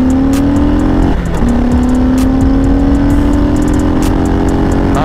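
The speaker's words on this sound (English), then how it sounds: "We're gonna give it some gas here again." A 2021 Harley-Davidson Heritage Classic motorcycle on a test ride pulls hard under throttle, its engine tone climbing steadily after a brief dip, loud and close, with wind and road rumble underneath.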